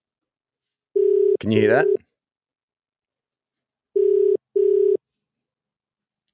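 Outgoing phone call ringback tone, steady beeps in separate bursts with gaps of silence, while a person speaks briefly over the first burst.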